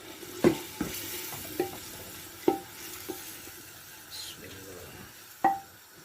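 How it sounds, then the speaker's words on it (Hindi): Black chickpeas being stirred and fried in masala, with sharp metallic clinks of a spoon on the pan at irregular intervals over a low sizzle, close by, with a little background murmur. "10 से 15 मिनट हम चनों को मसाले में भूनेंगे।"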